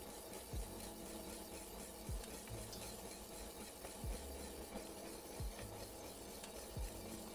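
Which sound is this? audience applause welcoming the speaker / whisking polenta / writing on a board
whisking polenta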